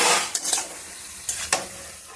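Cabbage fries on high heat in a pan, a close steady sizzle broken by four brisk scraping stirs in two pairs, with no voices.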